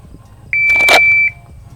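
A shot timer gives a single sharp, loud electronic beep about three-quarters of a second long at the start of a pistol draw, with quiet surroundings before and after.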